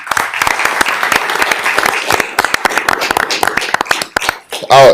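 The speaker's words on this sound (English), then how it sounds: "Give everybody a hand clap, please." Loud audience hand clapping for parents at a town ceremony honoring athletes, dense and close, with scattered voices and a brief burst of noise near the end.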